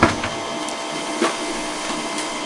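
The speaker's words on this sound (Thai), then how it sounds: "ปริ้นออกมาเป็นที่เรียบร้อยแล้วนะครับ" An HP LaserJet P1566 laser printer runs through a page, giving a steady mechanical whir with a few soft clicks and thumps. The sound is close and continuous, with no voices over it.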